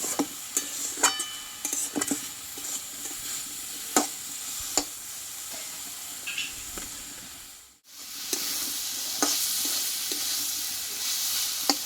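Red amaranth greens sizzle and fry steadily in oil in a pan, with occasional stirring clicks of a spatula, a continuous close hiss that drops out briefly before resuming.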